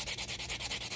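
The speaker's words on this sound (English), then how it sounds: "with our reliefing block, you could use the white side or the dark gray sides to start sanding and removing some of that finish" Hammered brass metal blank sanded with a reliefing block, giving a steady rhythmic rasping scrub of quick back-and-forth strokes, close and fairly quiet.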